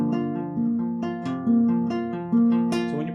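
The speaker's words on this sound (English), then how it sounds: "So this walking bass line sounds like this." Acoustic guitar walking bass line from a song, picked on the 4th, 3rd and 2nd strings: steady stepping bass notes with ringing strings, played close and clear with no talking.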